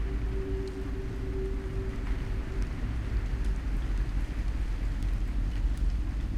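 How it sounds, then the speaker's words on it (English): Strong wind roars steadily through icy woods, a dense low rumble with buffeting against the microphone and a faint sustained tone early on, no voices. "It is super windy and then icy."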